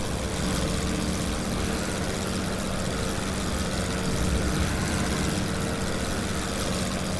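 A WWI aircraft engine in Wings Over Flanders Fields drones loudly and steadily without a break, a dense rumbling roar with no voices.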